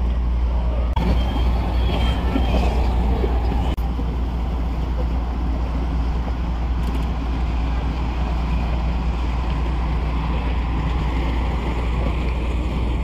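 A ferry's engine drones in a low, steady rumble on a canal at the Moju Chowdhury ferry ghat in Lakshmipur, with wind and water washing over it for the whole stretch.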